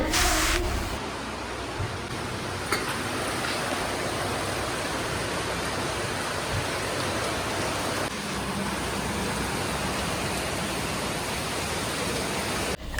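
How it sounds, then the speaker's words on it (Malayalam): Heavy rain falling outside, a dense steady wash of noise that continues evenly throughout, no talk. "നല്ല അടിപൊളി മഴ പെയ്യുന്നുണ്ട്"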